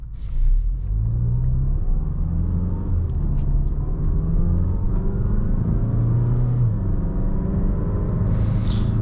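A 2020 Mazda CX-5 in sport mode cruises at about 50 with the engine held near 3,000 RPM, giving a steady, loud, close cabin drone with a low rumble and a constant engine hum throughout.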